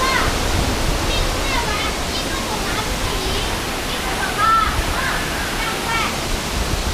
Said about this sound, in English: the edge and the waterfall is going right through you